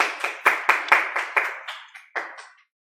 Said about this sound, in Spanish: Le damos una cordial bienvenida y un aplauso para usted.